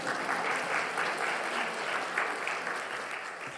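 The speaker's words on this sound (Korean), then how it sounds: "박수 좀 한번 했어요" A church congregation claps together in a steady, warm round of applause that carries on throughout at moderate loudness, with no talking over it.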